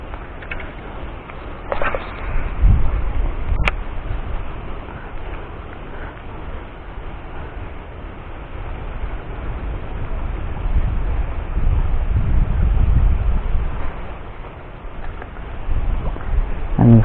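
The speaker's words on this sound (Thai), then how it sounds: "ลมเปลี่ยนทิศนะ" Strong wind blowing outdoors on open water while fishing for snakehead from a boat: a steady low rumble buffeting the microphone, swelling in gusts with an occasional faint knock.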